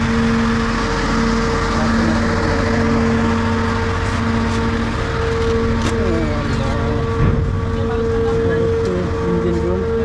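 A vehicle ferry from Bhola to Barisal sits with its engine running as it prepares to depart, a loud, steady low drone with a tonal hum, and faint voices and clanks around it.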